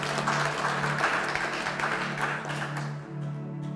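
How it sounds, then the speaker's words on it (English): Loud, dense applause from a church congregation for the band fills the whole moment, with a low steady tone underneath, fading slightly at the end. "a big round of applause"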